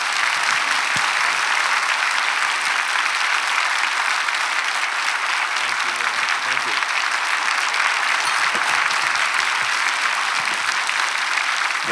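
Dense, sustained applause from a church congregation fills a Korean Sunday service as two speakers are welcomed, a loud, steady wash of many hands clapping without pause.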